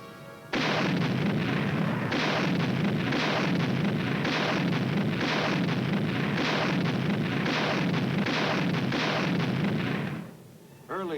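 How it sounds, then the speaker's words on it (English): Repeated heavy gunfire from a tank's main gun elevated to serve as artillery in the Korean War, a dense run of loud booming reports lasting about ten seconds before cutting off abruptly. "With a little added elevation, a tank's rifle can be darn good artillery"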